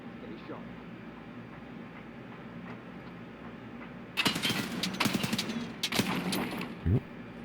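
Enemy gunfire in a tactical room-clearing shooter game set on an icebreaker ship's engine room, a sudden burst of rapid shots breaking in over a low mechanical hum, followed by a second short volley.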